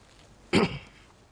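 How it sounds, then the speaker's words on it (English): A single short, sharp cough bursts out of quiet background, loud and close, then fades quickly. "Why the cough?"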